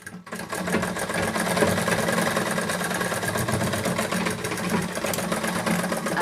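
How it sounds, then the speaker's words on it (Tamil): Sewing machine runs continuously at a steady, fast stitching rhythm while sewing the hook side of a blouse, close and even with a faint mechanical hum beneath. "இப்போ நம்ம தைக்கிறது வந்து கொக்கி சைடு வந்து தைச்சிட்டு இருக்கோம்."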